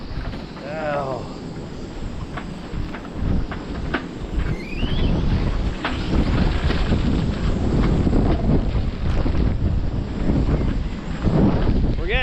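Strong hurricane wind gusts from Hurricane Beryl in Grenada roar continuously and loudly close to the microphone, building in a heavy buffeting rush with brief exclamations from a person under it.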